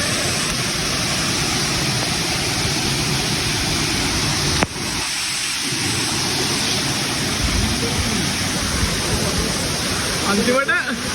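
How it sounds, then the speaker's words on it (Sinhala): The Dunhinda waterfall keeps up a loud, continuous roar of rushing water close by, with a brief sharp knock midway. "අන්තිමට අපි දූවිලි ඇල්ලට ආව"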